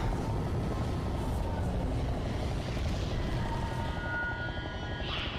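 Helicopters in the game Skibidi Toilet Multiverse give a loud, steady, rumbling rotor drone that fills the whole moment without a break, easing slightly toward the end.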